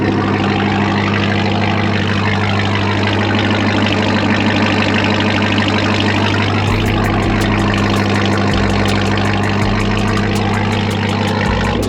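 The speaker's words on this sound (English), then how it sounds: "That is what a Hellcat motor straight pipe sounds like." Dodge Ram TRX truck with a supercharged Hellcat engine, catalytic converters deleted and fully straight-piped exhaust, idling loudly up close with a deep steady rumble and a rougher, louder burst partway through.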